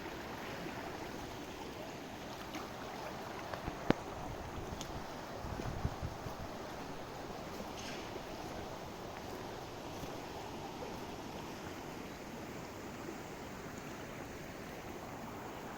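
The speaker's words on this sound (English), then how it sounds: "This is her flow, the flow of her sacred waters into the lake." Sacred waters flow into a lake as a steady, even rush and babble, moderately loud and unbroken, with light wind noise and an occasional faint knock.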